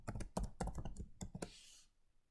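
Notes are typed on a computer keyboard in a quick, irregular run of close, crisp key taps, ending in a soft rustle and then quiet.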